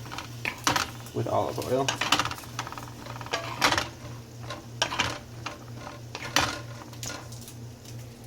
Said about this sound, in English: I'm going to stir it around so that they all get covered